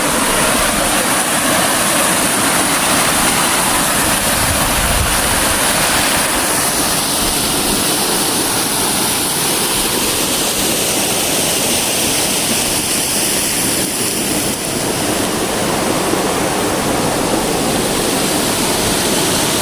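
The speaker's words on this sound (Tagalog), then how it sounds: "dyan yung tubig humuhulog." Water pours over large rocks at a waterfall, a loud, unbroken roar of rushing water that holds steady throughout with no voices.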